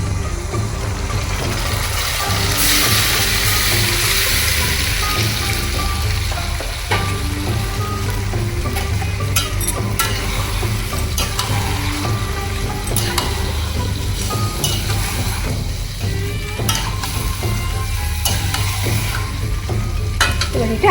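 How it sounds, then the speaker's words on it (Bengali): Marinated chicken with reddish-browned onions fries in a pan while being stirred slowly, a loud continuous sizzle broken by repeated scraping and clinking of a spoon against the pan, with no voices. "এবার এটা আস্তে আস্তে কষাবো।"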